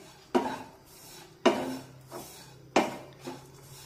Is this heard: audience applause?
no